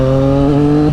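Triumph Street Triple RS, a 2020 model fitted with an SC Project S1 exhaust, drones loudly and steadily at close range with a continuous harmonic engine tone for the full second.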